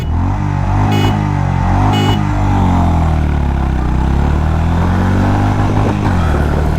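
A 2024 Honda Highness CB350 motorcycle accelerates hard on the road, its engine a loud, steady low thrum whose pitch climbs and dips through gear changes, with brief bursts of wind or mechanical noise near the start.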